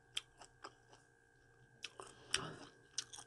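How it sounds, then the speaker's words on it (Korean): Chewing a mandarin orange close to the mouth, with a run of soft, regular moist crunches and bites, one louder juicy squish partway through, then more gentle chews. "귤 먹어볼게요."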